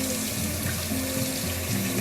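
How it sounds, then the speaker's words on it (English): Steady rush of tap water running over a piece of cured salmon being rinsed in a sink, continuous and fairly close with a low hum underneath. "After this, you just rinse it off,"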